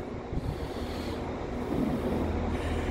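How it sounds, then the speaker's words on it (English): Train pulling into Bamber Bridge station, a steady low rumble and broadband roar that builds slightly toward the end, with wind-like noise throughout and no talking. "I hear my train arriving."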